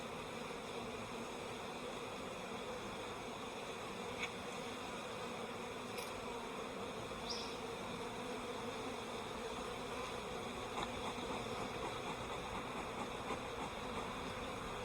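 Honeybees droning steadily from an opened hive in a subarctic apiary, a colony whose queen has an amputated wing, the buzz a constant dense hum through the whole stretch with no talk over it.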